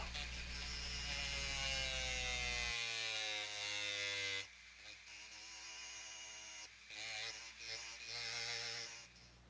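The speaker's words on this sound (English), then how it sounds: "I'll cut grooves for the axles in the bottom of the base with my rotary tool." A small rotary tool buzzes at high speed as it cuts axle grooves into the base of a Hot Wheels '32 Ford Delivery toy car. The whine runs steadily, then breaks into short, choppy bursts as the bit bites in and lifts off.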